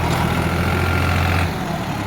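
A New Holland 3600-2 tractor engine idling unloaded, a loud close steady low rumble that drops slightly in level near the end.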